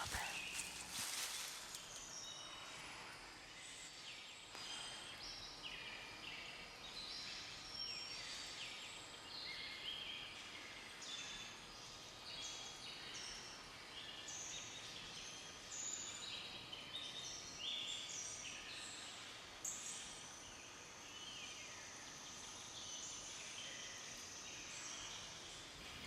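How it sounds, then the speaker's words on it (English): Many birds chirp and sing continuously outdoors, layered calls near and far, with faint rustling footsteps beneath. "I'm gonna play some more of those birds."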